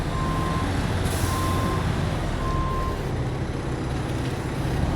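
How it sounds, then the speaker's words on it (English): Aftermarket truck backup alarm, three evenly spaced beeps about a second apart over a loud, steady engine rumble and broadband noise. "The backup alarm is not stock."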